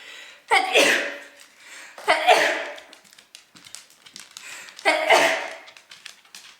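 Three sharp sneezes burst out one after another, close and loud, with quiet breathy pauses between them.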